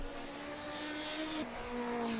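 A video game Ferrari race car engine whines past in a sustained high tone on the Monte Carlo circuit in a 1967 F1 sim race, the pitch shifting and dropping as it goes by, fairly faint.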